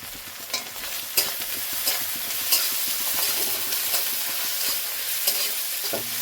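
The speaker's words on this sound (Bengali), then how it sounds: "নারকেলটাকে সুন্দর করে লাল করে ভেজে নেব।" Coconut frying in a pan with continuous sizzling and hissing, broken by regular scraping strokes of a spatula stirring it, close up and fairly soft.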